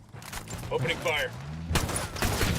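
Bursts of gunfire ring out in Ghost Recon Wildlands, a short volley cracking near the end after a quiet stretch with game voices and effects.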